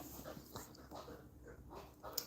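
A cardiac alert dog whimpering softly and panting in quick, faint bursts close by, with no talk over it.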